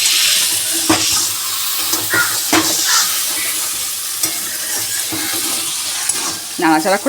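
Fish and bean curry made with small kachki fish and flat beans being stirred in a pan, a steady sizzling hiss with scraping strokes of the spatula and brief pauses, close and moderately loud.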